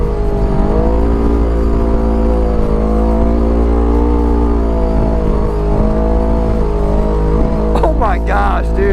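A fully modified budget side-by-side UTV runs off-road, its engine droning loudly and continuously with a steady low rumble and rising pitch at the end, with people talking over it.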